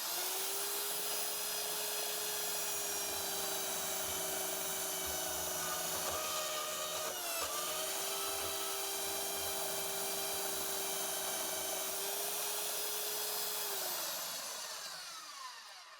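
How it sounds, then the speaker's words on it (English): A Harbor Freight metal cutting saw slices through small 1x1 metal tubing with a loud, steady high-pitched whine and a grinding screech that holds for about fourteen seconds, then spins down and fades. "I'm going to show you how it cuts a piece of little 1x1 tubing"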